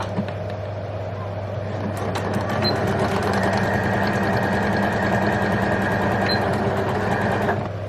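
A home sewing machine runs steadily while stitching jersey fabric for a pyjama T-shirt, a continuous whirring drone near the mic that grows slightly louder partway through, with no talk.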